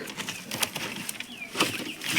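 Pigeons in a farm loft, a parent pair with two young black birds, cooing softly with brief wing flaps against a faint, noisy background.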